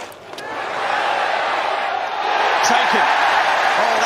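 A home cricket crowd roaring after a good catch in a Somerset versus Lancashire match, a swelling, sustained cheer that builds and holds loud, with individual shouts and whoops rising out of the din.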